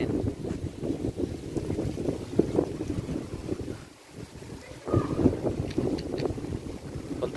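Steady gusty wind buffets the microphone at Costa Bella Tropical Resort, a seaside resort in Maribago, Lapu-Lapu City, roaring low and continuous with a brief lull partway through.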